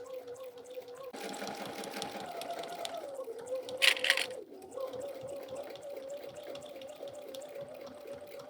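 Sewing machine stitching in the ditch of a quilted folded-star table topper, a steady whirring hum that starts, runs continuously, shifts in speed and pauses briefly near the end, close and moderately loud.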